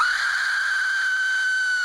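An Aztec death whistle wails in one piercing, shrill, sustained, scream-like blast, harsh and breathy, loud and unbroken for about two seconds.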